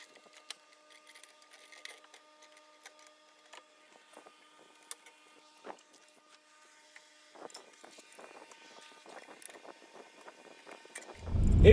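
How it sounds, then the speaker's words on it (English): A jack lifts a 2005 Jaguar during a Maxpeedingrods coilover install, giving sparse mechanical clicks and light creaks that grow busier before ending in a loud, low thud. "I'm gonna jack this up and see if I can put the bolt through."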